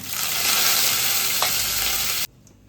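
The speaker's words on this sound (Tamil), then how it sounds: "இது கூட ஒரு பத்து மிளகு போட்டுக்கலாங்க கருவேப்பிலை ஒரு கொத்து போட்டுக்கலாங்க" Peppercorns and curry leaves sizzle loudly in a frying pan with oil, a dense steady hiss that cuts off abruptly near the end, leaving a faint quiet tail.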